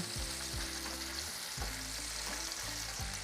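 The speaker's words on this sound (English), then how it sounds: "So now my sausages are starting to brown on one side, so I'm just giving them a nice toss so they can cook on the other side" Sausages sizzle steadily in a hot pan, broken by a few dull knocks and scrapes as they are tossed. The frying is loud and close, with no talking.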